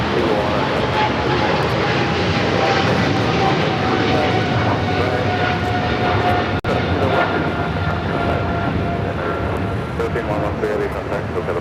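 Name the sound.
Philippine Airlines jet departing LAX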